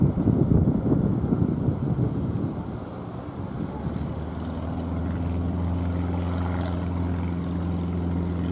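A light aircraft engine at Cannes-Mandelieu airport builds from a rough, wind-buffeted rush into a steady droning hum with a clear tonal whine as it takes off.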